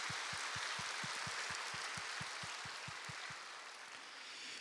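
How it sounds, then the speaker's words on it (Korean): A church congregation gives steady, faint applause during a Sunday morning service to welcome new members, a broad, even wash of clapping with regular soft low thumps beneath it. "동산의 가족이 되신 분들께 우리 마음을 담아서 우리 큰 박수로 환영해 주시기를 바랍니다"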